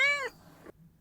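A human voice imitates a cat with a single high, drawn-out meow that slides down and trails off quickly, close and fairly quiet.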